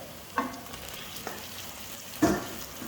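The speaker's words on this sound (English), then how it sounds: "Now we're going to saute it for about 15 seconds. Add the tongues now" Beef tongues sauté in a pan with black pepper, giving a soft steady sizzle. Two distinct bursts of stirring or added pieces stand out, one early and one louder near the end.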